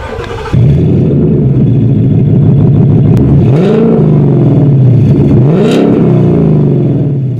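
Loud Ford Mustang engine idling with a deep burbling exhaust through an X-pipe with resonator delete, then two sharp revs that climb and fall back, close by.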